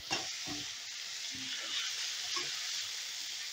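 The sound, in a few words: onions frying in a pan with salt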